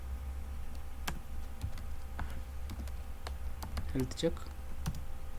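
Sporadic keyboard clicks and taps from someone typing on a computer while coding a Go health-check handler, with a steady low hum underneath and someone speaking briefly.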